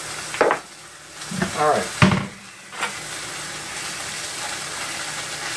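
Hot dogs fry in a pan with a low, steady sizzle under handling noises and brief speech, with a few louder scrapes as they are moved around.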